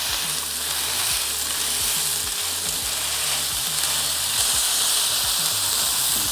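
A smash burger patty pressed flat under greaseproof paper on a Blackstone griddle gives off a loud, unbroken sizzle with a constant frying hiss throughout.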